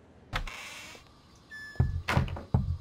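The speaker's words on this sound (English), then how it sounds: "Who's that knocking?" Knocking on a door in the puzzle video game Unheard: after a faint creak and scrape, several sharp, close knocks land in a quick irregular cluster near the end.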